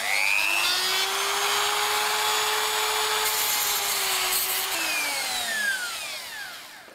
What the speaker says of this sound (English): Excuse me one second while I chamfer the edges off.